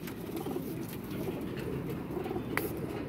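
Tethered pigeons cooing close by in a domestic pigeon loft, soft repeated low coos in a steady rhythm with a faint chirp near the end.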